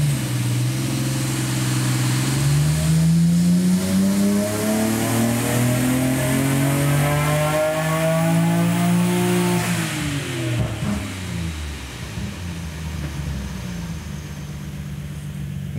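A car engine with an eBoost3 boost controller fires up and revs hard, a loud, rising mechanical roar that climbs steadily for about ten seconds before dropping back toward idle, with no talking.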